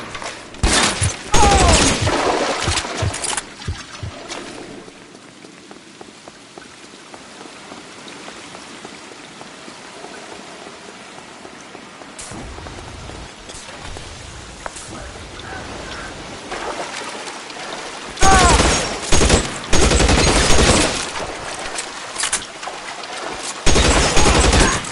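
Shootout in the L.A. Noire video game, with loud bursts of rapid gunfire at the start and again in the final stretch, and quieter scattered shots and ambience between them.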